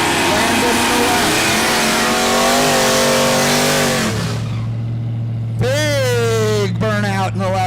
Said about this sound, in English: Burnout in the left lane. We like big burnouts and we cannot lie.